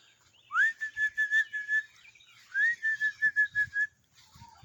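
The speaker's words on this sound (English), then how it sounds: "That's my chicken whistle." A chicken whistle blown to call a flock: two bright rising whistles, each followed by a quick run of short pulsed toots, close and clear against a quiet background.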